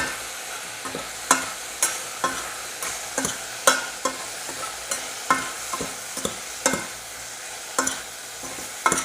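Spicy chicken in yogurt is stirred in a hot pan, a spoon scraping in regular strokes roughly every half second over a constant soft sizzle, close and clear with no talk.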